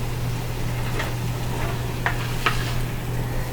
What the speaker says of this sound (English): I better use my little Cuisinart mix here.